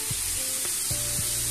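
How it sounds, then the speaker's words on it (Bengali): Potato pieces sizzle steadily in hot oil in a home kitchen, a continuous bright hiss with a few soft stirring knocks and no voices. "আলুটাও একটু লাল করে নেবো"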